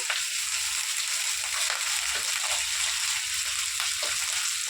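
Ginger garlic paste and curry leaves frying in oil for ridge gourd curry, a loud steady sizzle close up with faint stirring throughout.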